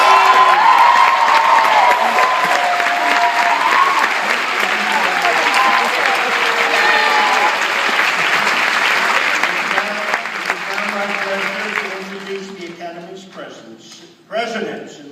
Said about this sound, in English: the next round of applause should be for the parents of our graduates.